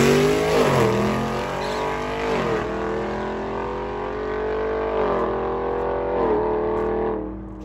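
Old-school Ford Ranger and Chevelle muscle cars at a Carolina drag racing event, engines roaring loudly and steadily with repeated rises and falls in revs throughout, no talking.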